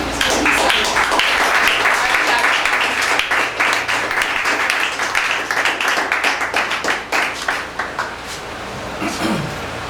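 A church congregation claps to acclaim the Lord during an intercession service, loud, sustained applause that breaks into more distinct rhythmic claps toward the end before fading.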